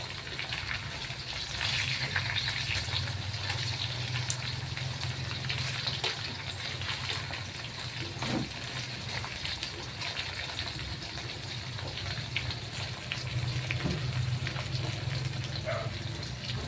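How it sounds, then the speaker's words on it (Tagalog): Bananas fry in oil with a faint, steady sizzling hiss that lasts throughout, broken by occasional soft clinks and pops. "Yun, may piniprito pang saging doon."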